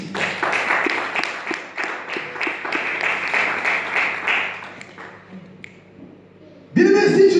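A church congregation claps and applauds together during a worship service, a dense run of steady clapping that fades out, followed by a sudden loud burst of sound at the end.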